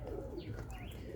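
Capuchin pigeons kept for breeding in Jamaica give soft, faint coos, with a few light chirps over a low background hum.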